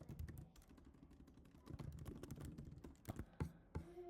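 Keys clatter on a computer keyboard in quick irregular bursts, with a few louder strikes, close and fairly quiet, and no talking.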